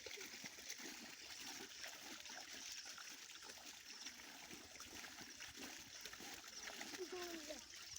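Water splashing while washing the face, soft continuous trickling and light splatter, fairly faint and close, with voices talking throughout.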